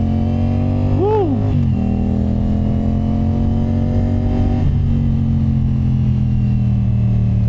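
A CF Moto 450SR-S motorcycle engine idles steadily up close, with a quick rev that rises and falls early on and a brief blip near the middle, then settles back to a loud, even idle.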